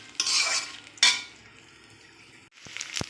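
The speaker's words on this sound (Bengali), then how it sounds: "এই আদাটা আর এই চালটা একটু ভেজে নেব।" Rice and ginger paste frying in a pan for hilsa basmati pulao, with two bursts of stirring sizzle and a clatter of utensil against the pan, quieter gaps between, then a couple of sharp knocks at the end.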